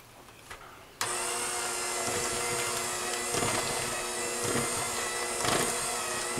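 An electric hand mixer with beaters whirs into peach muffin batter, switching on abruptly after a quiet moment and running as a steady loud motor drone with slight bumps as the beaters move through the bowl.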